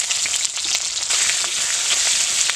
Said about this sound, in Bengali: তেলটা আমার গরম হয়ে গেছে এতে আমি দিয়ে দিচ্ছি গোটা মশলা দিয়ে দিচ্ছি পেঁয়াজ কুচি